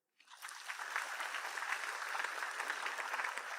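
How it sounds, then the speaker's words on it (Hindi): An audience at a career guidance seminar breaks into steady, even applause after a moment of silence, a continuous wash of many hands clapping at a moderate distance. "इनके ताली बजाइए भाई"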